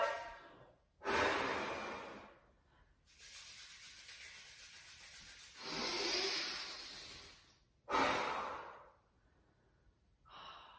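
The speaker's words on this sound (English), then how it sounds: "Blow into your hands. Big breath in. Big breath out." Slow, deliberate breaths blown out into cupped hands to warm them during a children's yoga session: three long, breathy exhalations, each followed by a quieter inhale, close and soft, without speech.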